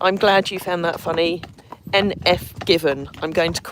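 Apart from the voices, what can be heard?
None of the usual background noises is heard.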